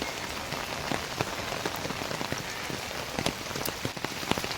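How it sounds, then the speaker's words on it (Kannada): Heavy rain drums steadily on a surface nearby, a dense continuous patter with scattered sharper drops, loud and unbroken by any voice. "ಪುನಃ ಒಂದು ದೊಡ್ಡ ಮಳೆ ಹಿಡಿದಿದೆ"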